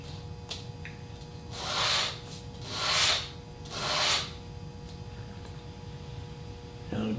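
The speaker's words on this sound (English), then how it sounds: "very light pressure when you do the initial sanding" Three slow, hissing sanding strokes with very light pressure rub across a small glass piece with a burr for a segmented eye, each a soft rising and falling swish, close up and fairly quiet against a faint background hum.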